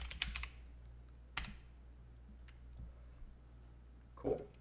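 Computer keyboard keys clicking close by: a quick burst of taps at the start, a single sharp keystroke, then scattered quieter clicks and a final cluster of presses, with no talking.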